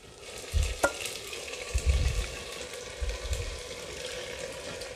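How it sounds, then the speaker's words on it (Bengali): Marinated mutton sizzling as it hits lightly fried onions in a pot for handi mutton, a steady frying hiss with a few low thumps and stirring scrapes as the meat is added, no voices. "ম্যারিনেট করে রাখা মাটনটা আমি এখন দিয়ে দিচ্ছি এর মধ্যে।"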